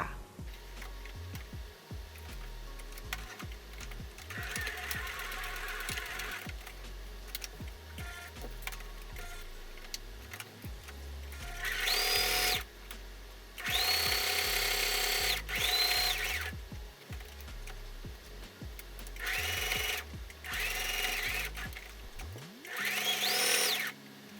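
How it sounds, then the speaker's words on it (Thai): A sewing machine stitches fabric around the edges of a simple DIY tissue cover. The motor whirs steadily with rapid mechanical clatter, surging louder in several bursts and stopping at the end. No one speaks. "นำไปเย็บให้รอบชิ้นงานเลยนะคะ"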